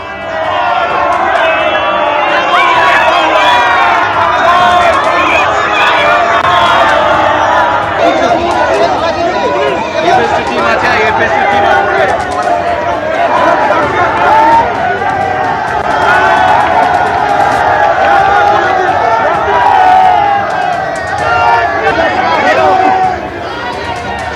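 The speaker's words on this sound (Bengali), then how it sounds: "বিজেপি তৃণমূল সংঘর্ষ, স্লোগান যুদ্ধ।" A street clash between BJP and TMC party workers in Baranagar, with a dense crowd shouting slogans and clamouring loudly and continuously, voices overlapping in a close, agitated roar throughout.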